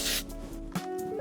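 Hairspray misted briefly through the mid-lengths of hair during an updo styling: one short, faint hiss near the start, then quiet handling noise.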